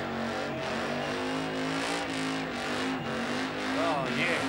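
A supercharged car doing a burnout at the Summernats 18 burnout eliminations, engine held at high revs with tyres scrubbing in a continuous loud roar, while a voice talks over it.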